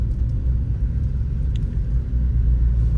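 Steady low rumble of a car driving at night on the road, with dashboard warning and check-engine lights on, the engine and road drone loud and continuous throughout.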